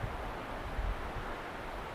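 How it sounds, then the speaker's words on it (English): Wind gusts through the branches of a thick, deep forest in a steady broadband rush with soft low buffeting and no voices. "The wind's kicked up"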